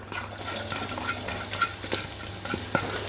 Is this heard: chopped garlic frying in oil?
yes